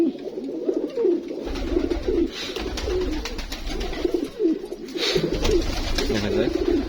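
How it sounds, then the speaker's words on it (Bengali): Giribaz pigeons coo steadily inside a loft where a hen sits on two eggs, layered low murmuring coos overlapping through the whole stretch with faint rustling behind. "গ্রিবাসটা 2টা ডিম নিয়ে বসে আছে সুন্দর পরিবেশে।"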